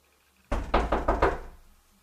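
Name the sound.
child knocking on a bedroom door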